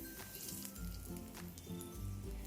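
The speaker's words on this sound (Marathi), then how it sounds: "आता मोहरी, जिरे आणि कढीपत्त्याची फोडणी तयार करून ती या मिश्रणामध्ये घालून" Mustard seeds, cumin and curry leaves sizzle in hot oil as a tempering, a steady close crackle with small popping spits throughout.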